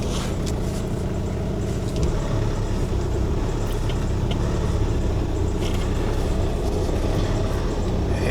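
A Honda Civic, bought as scrap, moves under its own power for the first time, its engine and road noise a steady broadband rumble throughout, close and loud, with no talk.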